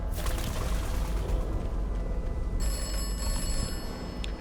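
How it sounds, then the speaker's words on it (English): A telephone rings in the video game Atomfall, a bright electronic trill of sustained high tones that starts partway through over a low, rumbling ambient background, with no talk. "Oh, someone's ringing in again."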